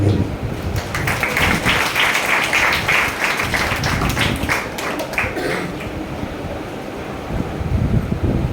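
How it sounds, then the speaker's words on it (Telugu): A church congregation claps together to welcome a speaker, a dense, loud patter of many hands that fills the room and holds steady throughout. "వారు వస్తుండగా మనం చప్పట్లు కొట్టి మన యొక్క ఆహ్వానాన్ని దయచేద్దాం"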